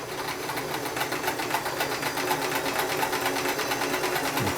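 A Sears Kenmore 158 series free arm sewing machine runs a zigzag stitch, a close, fast and even rhythmic needle chatter that holds steady before stopping abruptly, with no voices.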